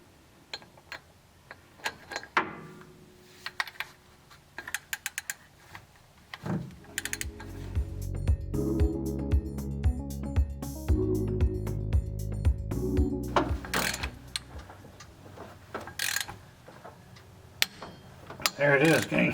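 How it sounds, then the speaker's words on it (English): Torque wrench tightening the harmonic balancer center bolt on a small-block Chevy 350 in a 1969 Camaro, a long run of rapid close ratcheting clicks building to a dense stretch, with scattered metallic ticks around it. "I'm about to get the torque wrench on that center bolt"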